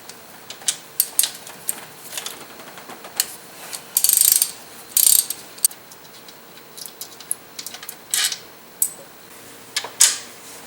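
A ratchet clicks while loosening a bolt on the alternator of a Dodge 4.7L engine, with short bursts of rapid pawl clicking between pauses and light tool clatter, close and clear, no talking.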